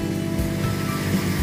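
Arco-Íris waterfall in Patrimônio da Penha, Caparaó region, Espírito Santo, drops roughly 20 to 30 metres into a pool. Its water makes a steady, loud, close rushing roar with no pauses.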